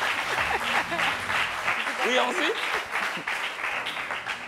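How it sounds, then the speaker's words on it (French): An audience applauds in a studio with a continuous wash of clapping, while people talk over it. "Et ça s'applaudit"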